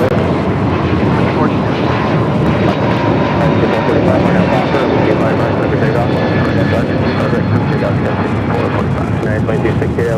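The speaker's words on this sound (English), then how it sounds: "A321 Neo taking off." An Airbus A321neo takes off at Los Angeles International Airport, a loud, steady engine roar holding throughout with continuous talk over it.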